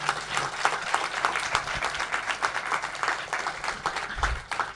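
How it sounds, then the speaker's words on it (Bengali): Concert audience applauding, a dense steady wash of many hands clapping throughout, moderately loud with no clear break. "সেই জন্য ওদের জন্য একটা স্পেশাল হাততালি"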